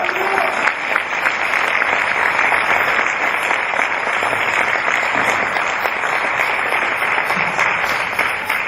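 A church congregation applauds steadily and loudly through the whole stretch, greeting an elder at a Sunday afternoon worship service, with a dense, even wash of clapping and no break.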